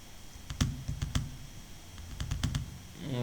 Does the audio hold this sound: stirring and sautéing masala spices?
no